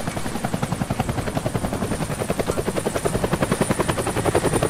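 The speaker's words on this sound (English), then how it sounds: "That's the helicopter chasing my friends." A helicopter in the video game Deadlight thumps with fast, steady rotor beats, loud and close, holding an even rhythm throughout with no talk over it.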